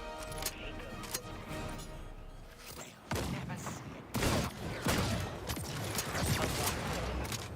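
Heavy scatter gun blasts from a tank-class hunter in the Star Wars Hunters video game, several loud booming shots fired in quick succession amid game effects, with a player talking over the action.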